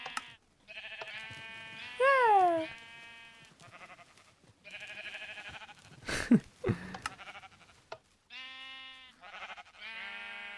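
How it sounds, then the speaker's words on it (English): Sheep bleat at a sheep farm in the video game Minecraft, several short wavering bleats in close succession with brief gaps, plus one rising call and a quick voice in between. "Oh, the pop-up sheep farm."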